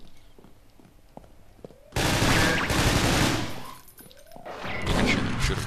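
Gunfire in the Half-Life 2 mod 1187 video game, a dense rapid automatic barrage starting abruptly after quieter game sounds and running to the end with a brief dip, loud and close.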